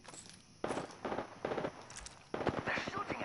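Apex Legends gunfire arriving in several rapid bursts of crackling automatic shots, moderately close, separated by short quiet gaps, with the last burst longest and busiest.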